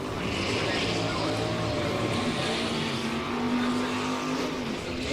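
Drag racing car engine rumbling in the water box on the right side of a racetrack, a loud, continuous low throbbing idle with a commentator talking over it.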